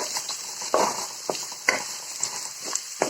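Garlic cloves fry with a steady bright sizzle in a pan for a Tamil garlic powder (poondu podi), broken by several sharp scraping stirs of a spoon at irregular intervals, close and alone without talk.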